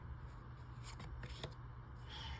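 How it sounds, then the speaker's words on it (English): A quick riffle shuffle of a stiff oracle card deck, a crisp fluttering rattle followed by soft clicks, close and fairly quiet. "Let's see how it riffle shuffles."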